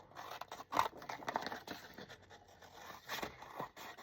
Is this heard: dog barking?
no